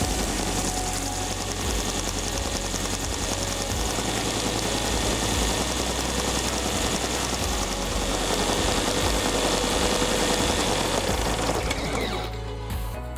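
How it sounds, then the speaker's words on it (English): Belt sander with a 400 grit belt shaping a curve on a hardened steel lathe form tool, a loud, steady, continuous grinding whir that holds for the whole stretch and eases off briefly near the end. "I think the easiest way to tackle this is to use the belt sander."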